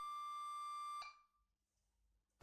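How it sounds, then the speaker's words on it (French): Steady pure electronic tone at 1180 Hz played at constant level to make a glass resonate, holding loud and unwavering for about a second before cutting off abruptly into near silence. "on va diffuser un son à la même amplitude mais à 1180 Hz"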